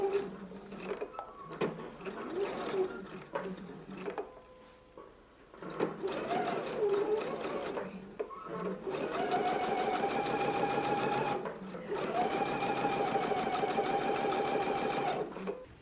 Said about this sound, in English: we're going to stitch in a 1/4 of an inch seam allowance, so back stitch at the beginning and at the end